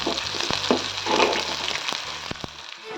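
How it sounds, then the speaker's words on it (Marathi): Chopped garlic and onion fry in a pan until browned, giving a steady, close sizzle with occasional spoon scrapes and stirring knocks throughout. "लसूण. याला लाल होईस्तोवर भाजून घेऊया."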